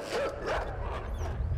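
A dog in the game Inside gives a short, muffled bark and yip, brief and mid-distance, over a dim background rumble.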